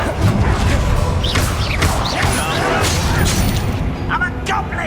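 Fire-blast spell explosions from Hogwarts Legacy boom and crack in quick succession, with crashing debris and scattered impacts, while a voice speaks over the blasts.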